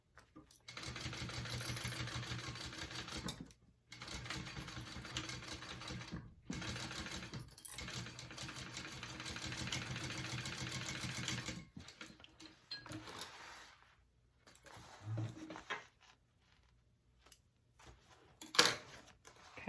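A sewing machine stitches through several layers at a seam of a convertible bag, running in loud bursts separated by short pauses, then fading to sparse, quieter stitching and handling noises.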